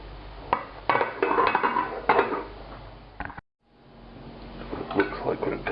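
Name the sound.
pot lid put back on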